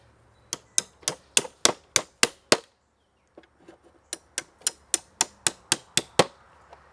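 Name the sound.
hammer driving nails to anchor a trap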